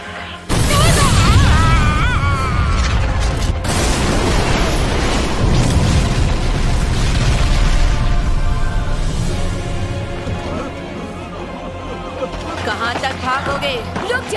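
A loud fire-magic blast erupts in an anime battle scene, a sustained roaring explosion that rumbles on for many seconds and slowly fades, with voices mixed faintly into it.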